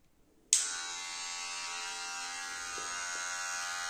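A WAHL Magic Clip hair clipper switches on with a sharp click after a moment of quiet, then holds a steady, close, high electric buzz alone.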